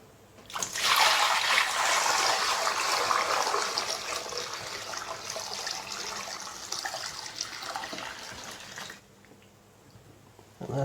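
Water gushes steadily from a tap into a sink for several seconds, a loud broadband rush that gradually eases before cutting off abruptly.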